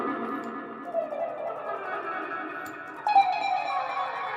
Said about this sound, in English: And all I'm doing is I'm doing a wah pedal